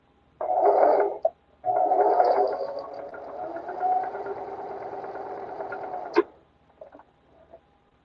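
A sewing machine stitches scrunchie fabric in close, steady bursts of rapid mechanical whirring, pausing briefly after the first run and then stopping with a sharp click, followed by a few soft handling taps.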